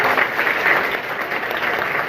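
Applause from an audience at a school event in Jaunpur, a steady, fairly loud wash of many hands clapping for about two seconds, with no talk over it.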